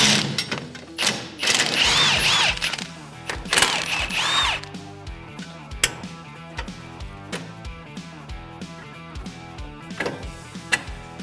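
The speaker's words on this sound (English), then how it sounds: "All we're gonna do is remove 2 bolts down here, then move up top, remove 2 nuts," Power tool spinning off bolts and nuts while removing a car's coilover, short bursts of whirring and rattling at first, then a rhythmic series of clicks and thumps with a mechanical pattern underneath.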